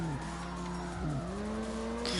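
A Lada drifting in the CarX video game, its engine whining and rising in pitch while tires skid and squeal continuously, close and loud, with a brief dip near the middle before the revs climb again.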